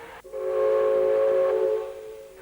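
A loud steam locomotive whistle blows steadily for about two seconds as the train departs, starting abruptly and trailing off, with rail noise beneath.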